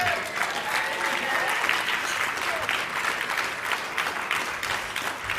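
An audience at a dinner ceremony applauds and cheers, with sustained, dense clapping and a few whoops filling the room throughout.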